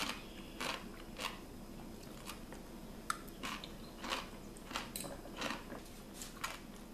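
Crisp crunching bites of fermented vegetables recur every half second or so, close and fairly quiet, with no talking.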